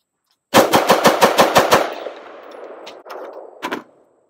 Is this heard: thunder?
no